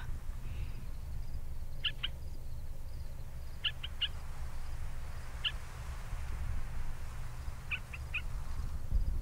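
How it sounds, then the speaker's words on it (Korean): Bird calls in the video game A Bird Story come as short, faint chirps in small clusters of two or three, spaced a few seconds apart, over a low steady background hum. "새가 자꾸 시끄럽게 해."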